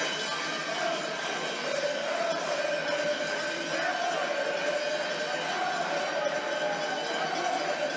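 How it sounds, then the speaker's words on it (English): Crowd at a ball hockey arena during a Greece versus Switzerland quarter-final, a steady roar of cheering and shouting voices filling the hall, with a commentator's voice over it. "The crowd rising in their voices."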